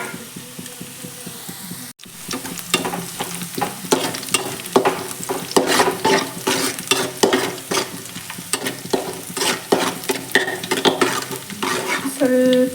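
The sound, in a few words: chili flakes frying in oil over medium flame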